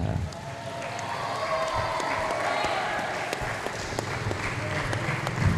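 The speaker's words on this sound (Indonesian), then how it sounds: "Tepuk tangan lagi yang meriah untuk kita semuanya." Applause from a studio audience at the close of a televised regional talk show in Banyuwangi, steady and moderately loud throughout, with a faint host voice and music-like tones running underneath.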